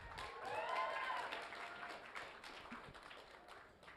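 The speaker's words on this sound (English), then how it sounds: "Big round of applause." A convention audience at a comic con applauds after a guest, a moderately faint, scattered round of clapping that swells early and gradually thins out, with a brief voice or tone near the start.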